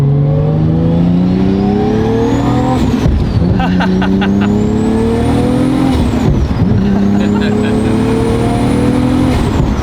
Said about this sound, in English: has all the race car sounds